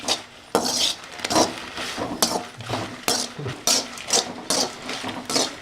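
Dry-roasted chillies stirred in a hot kadai, a spoon scraping and clinking against the metal in repeated close strokes with irregular rhythm.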